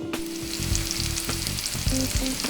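Onions frying in a pan on the stove, a steady close sizzle with bursts of crackling and a few clinks of a utensil stirring, no voices.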